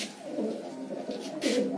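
Racing pigeons at a trader's loft in Dhaka give a few soft, throaty coos close by, short rolling calls repeating over a quiet background.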